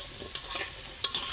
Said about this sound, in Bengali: মাংসের জন্য আলু ভাজতেছি, আলু